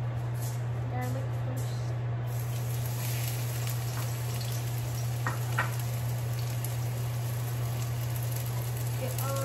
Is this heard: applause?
no